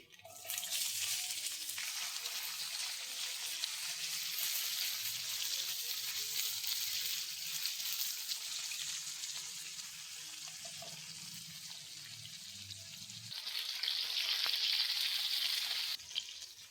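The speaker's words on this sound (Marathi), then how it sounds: "कांदा आपला थोडा परतलेला आहे" Chopped onion sautés in a pan with cumin, curry leaves and asafoetida, making a soft continuous sizzle that swells louder near the end, with faint stirring and no talking.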